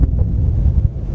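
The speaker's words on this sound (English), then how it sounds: "It's ever so windy." Heavy wind buffeting the microphone on a Dartmoor hilltop in a continuous low roar, loud and close, with no voices.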